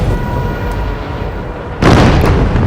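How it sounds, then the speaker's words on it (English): A World War II destroyer's depth charges bursting near the U-boat U-405: a low rumbling swell, then a sudden heavy boom that stays loud and broadband to the end. "The explosions send U-405 into a tumble"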